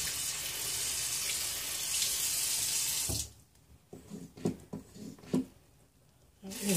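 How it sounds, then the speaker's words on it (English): Tap water runs into a sink while hands are rinsed, a loud steady rushing that stops abruptly partway, followed by quieter handling noises and brief thumps. "I have to rinse my hands."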